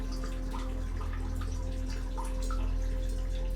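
Water dripping within an art installation, heard as scattered irregular drips over a steady low hum in the room.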